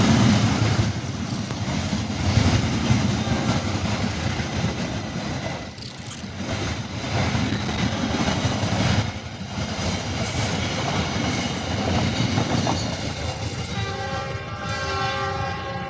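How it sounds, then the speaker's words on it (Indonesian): Two Indonesian passenger trains pass each other close by with continuous heavy rolling noise, joined near the end by a long sustained horn blast. "kereta api yang bersilang langsung dan kereta api livery Dirgahayu Kereta Api Indonesia"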